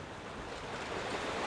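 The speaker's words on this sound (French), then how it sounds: "C'est les vagues." Ocean waves wash on the shore in a steady, faint broadband rush, with some wind noise and no voices.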